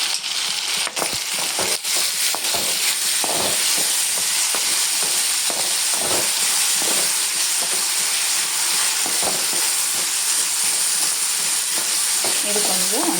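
Tomato, green chili and coriander tempering in hot oil for valaka gravy, a loud, continuous crackling sizzle with frequent sharp pops and occasional scraping stirs, close and dense throughout.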